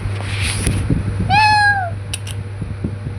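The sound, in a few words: cat meowing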